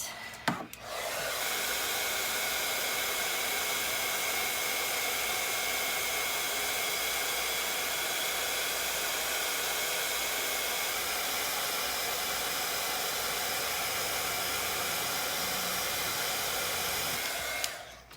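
A heat gun blasts steadily for about sixteen seconds while embossing powder is melted onto black art journal pages, a loud, even, close whoosh that starts and cuts off abruptly.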